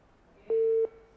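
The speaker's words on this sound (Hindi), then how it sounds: "जी कॉल ड्रॉप हो गई।" A single steady telephone tone beeps after a dropped call on a live call-in broadcast, one clean electronic pulse lasting about a third of a second over faint background hiss.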